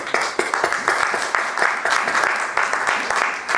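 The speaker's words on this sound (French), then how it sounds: "Est-ce qu'on peut acclamer?" Dense applause from a church congregation during a service, a steady wash of many hands clapping with sharp individual claps standing out, loud and sustained throughout.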